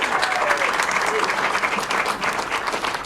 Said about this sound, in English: let's give a cheering ovation to each one of these players